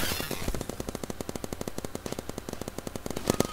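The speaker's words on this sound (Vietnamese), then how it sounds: "Có người bắn mình mọi người ạ." Rapid automatic gunfire in the Roblox game Big Paintball, a dense string of evenly spaced sharp shots running throughout, close and punchy, with a couple of louder bursts at the end.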